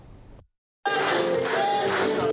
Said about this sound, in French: Zéphirin Diabré, accueilli sous des acclamations par des militants enthousiasmés